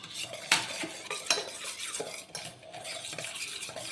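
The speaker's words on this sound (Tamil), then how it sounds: "அதுக்கு தேவையான தண்ணி ஊற்றி நம்ம கரைச்சிக்கணும் கட்டி இல்லாமல் கரைச்சிக்கணும்" A metal spoon stirs powder into water in a cup, clinking against the sides in quick, irregular taps over a soft swishing of liquid.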